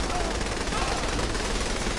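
Loud, dense rapid gunfire from the Saints Row 3 Remastered video game, a continuous roar of shots with no gaps for two seconds.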